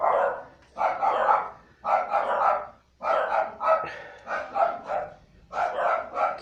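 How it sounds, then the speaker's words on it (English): Several dogs bark repeatedly at a postman at the front door, a loud, close, rapid run of overlapping barks and yips with only short pauses between bursts. "Excuse my dogs, there's obviously a postman or something at the door."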